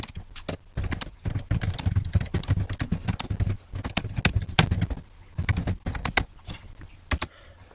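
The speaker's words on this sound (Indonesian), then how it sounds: "Kemudian selanjutnya kita mengetik kata yang sama seperti tadi." Typing on a computer keyboard while entering text in Microsoft Word, a close run of quick clattering keystrokes in irregular bursts with short pauses between them and no speech.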